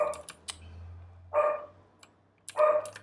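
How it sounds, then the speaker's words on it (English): A dog barks from another room while its owner works at a computer, three short separate barks spaced about a second apart, moderately loud, with faint clicks between them. "my dog's barking, so I apologize"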